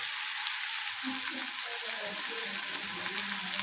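Green chilies sizzle steadily in hot oil in a pan for a palya, with a continuous close frying hiss and occasional stirring scrapes, while a faint voice murmurs in the background.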